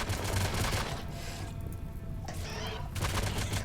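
Gunfire rattles in a RimWorld battle, rapid bursts of shots in close succession that pause briefly mid-way, then resume with another volley.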